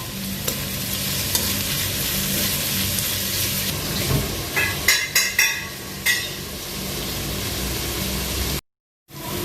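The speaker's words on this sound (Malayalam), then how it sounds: "നമ്മുടെ സവാളയിലോട്ട് നമുക്ക് കുറച്ച് ഉപ്പും കറിവേപ്പിൻ്റെ ഇലയും ഇട്ട് നമുക്കതിനെ വഴറ്റിയെടുക്കാം." Onions sautéing in a pan with salt and curry leaves, a steady close sizzle with scraping stirs, a short run of sharper crackles and clinks midway, then a brief cutout near the end.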